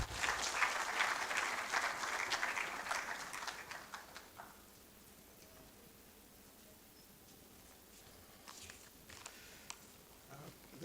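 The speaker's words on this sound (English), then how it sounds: "As he comes, please, a round of applause." Audience at a university research conference opening ceremony applauding as a professor comes up, clapping loud at first then fading out by midway, followed by quiet room tone and a few scattered late claps.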